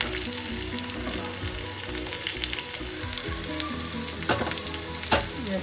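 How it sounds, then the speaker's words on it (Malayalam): Dried red chilies and shallots crackle in hot oil for a Kerala cucumber buttermilk curry, a loud close sizzle with busy popping and occasional scraping as the pan is stirred. "ജസ്റ്റ് ഒന്ന് ഇളക്കി കൊടുത്താൽ മതി, മൂക്കുന്നുണ്ട്, നല്ല മണം വരുന്നുണ്ട്"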